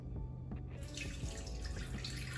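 Iced coffee poured into a cup for a low-calorie coffee toffee protein float, a steady liquid stream rising in as a continuous close splashing pour throughout.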